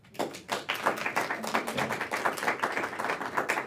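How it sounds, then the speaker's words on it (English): A small group at a team meeting claps together, a quiet, steady patter of overlapping hand claps that runs for several seconds with no clear pauses. "Did we always clap for everybody?"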